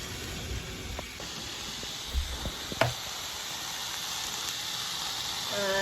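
Spam chunks fry in a pan with a steady, soft sizzling hiss, broken by a few dull knocks as the pieces settle.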